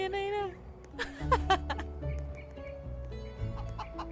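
Clucking chicken sounds from the Roblox game Chicken amid electronic tones and music, with people talking and laughing over them.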